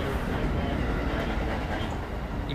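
Steady low rumble inside a moving Japanese commuter train on a New Year's morning ride, continuous and even throughout with faint rail clatter and no clear voices.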